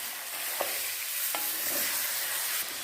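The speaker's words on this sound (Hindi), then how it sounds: "और चिकन को फ्राई कर लेते हैं 3 से 4 मिनट के लिए" Chicken sizzles and crackles steadily as it fries in a hot pot, with occasional stirring scrapes, and no voices.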